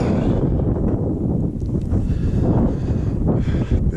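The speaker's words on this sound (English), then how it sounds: "Sorry about the wind, but it's blowing, so you're going to get wind noise." Wind buffets the microphone outdoors at the old mining ghost town of Arabia, Nevada, producing a steady, loud, low rumbling roar that lasts throughout with no speech.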